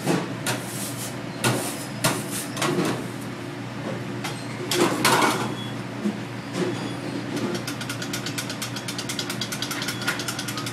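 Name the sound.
scraping biscuit dough off floured table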